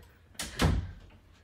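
A bathroom door in a hotel swings and bangs shut nearby, a quick creak followed by a loud thud, with no talking.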